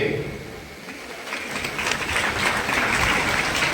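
An audience at a district-level youth festival held at Buhari High School claps in welcome for an education society president, the applause building steadily to a full, sustained wash of many hands, with background speech audible.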